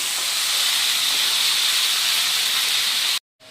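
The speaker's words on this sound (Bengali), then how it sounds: "আর এখন আদা বাটাটা ভালো করে কষিয়ে নেব" Ginger paste fries in hot oil with a loud, steady, close sizzling hiss that cuts off abruptly at the end.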